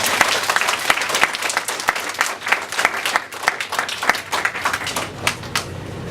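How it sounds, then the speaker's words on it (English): An audience at a first grade awards event applauds the young winners, giving steady, fairly loud clapping with sharp individual claps standing out throughout. "one last round of applause"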